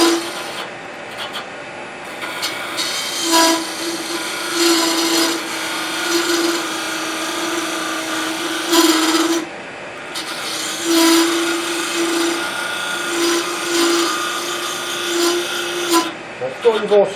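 Wood lathe turning with a small radius cutter, a flat-top gouge without a flute, producing a steady whirring hum with rasping, scraping cuts that swell and fade in bursts, and a voice talking intermittently over it.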